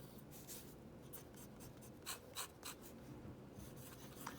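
A Kaco Edge fountain pen with a firm medium nib writes on paper, a soft close scratching with brief strokes and a few louder scrapes in quiet surroundings.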